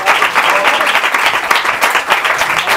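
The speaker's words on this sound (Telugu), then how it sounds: "Give claps to the lord." Congregation clapping at a church service, a loud dense burst of many hands that is steady and sustained, with no pauses and no voices on top.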